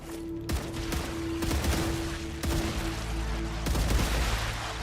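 Rifle gunfire in the video game StarRupture, close and loud, with repeated sharp shots in bursts and a steady electronic tone underneath, no talking over it.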